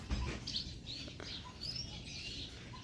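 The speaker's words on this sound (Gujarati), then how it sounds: "ચકલી બેઠી છે એના પપ્પાના શર્ટ માથે વહી ગઈ" Faint, quick house sparrow chirps come in scattered bursts over a steady outdoor village background hum, with no talking.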